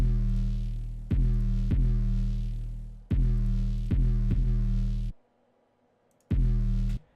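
Deep, booming 808 bass notes in a trap track hit in a rhythmic pattern, each sustaining and decaying, with a short gap of silence before a final hit.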